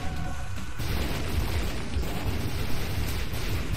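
A deep, rumbling explosion booms in The Binding of Isaac: Afterbirth, a dense continuous roar filling the whole stretch with no pause.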